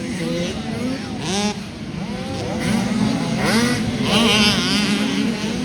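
Motocross bikes leaving the start of a youth amateur national championship race, engines revving and rising in pitch as they pull away, loud and continuous while an announcer talks over them.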